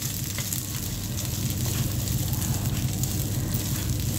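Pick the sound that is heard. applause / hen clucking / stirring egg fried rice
stirring egg fried rice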